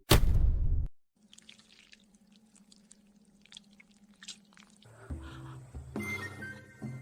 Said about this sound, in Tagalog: Tumama tayo sa tubig.